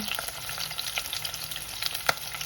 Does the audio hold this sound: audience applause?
no